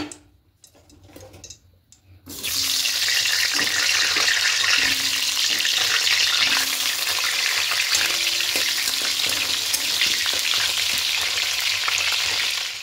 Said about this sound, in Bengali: এবার এখানে কেটে রাখা আলুগুলোকে ভেজে নেব।